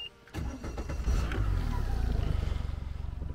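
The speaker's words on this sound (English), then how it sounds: "Let's start up the engine." A boat's outboard engine cranks and catches after a short pause, then settles into a loud, close, steady idle with a regular pulsing throb.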